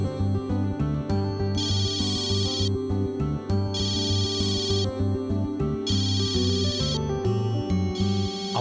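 A phone ringtone plays a bright repeating electronic melody in regular bursts, loud and close, with no talking over it.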